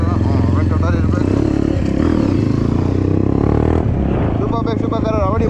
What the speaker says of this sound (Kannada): ಒಟ್ಟಲ್ಲಿ ಮೈಸೂರಲ್ಲಿ ಅಂತೂ ಒಳ್ಳೊಳ್ಳೆ ಸೂಪರ್ ಬೈಕ್ಸು ಬಂದಿದೆ